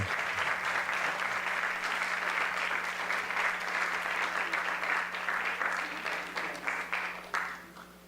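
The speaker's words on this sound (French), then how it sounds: "On peut les applaudir encore plus fort." An audience at a French heritage awards ceremony applauds the award recipients with long, dense clapping from many hands that holds steady over a low hum and then tapers off near the end.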